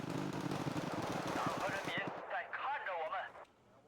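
Gunfire from units in a video game: a dense, loud stream of rapid shots and rattling bursts for about two seconds, then it thins into scattered whining effects that fade away while a voice talks over the start.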